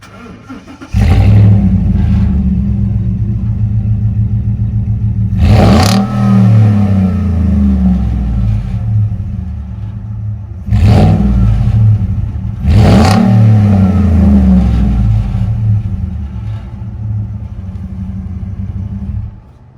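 A Ford Raptor with a 6.2-liter gas engine fires up close by, then settles into a loud idle broken by several sharp revs that rise and fall back down.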